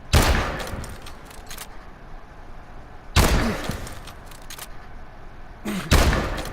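Three loud, sharp rifle shots from the RW1 in Call of Duty: Advanced Warfare ring out about three seconds apart, each trailing into a fading echo.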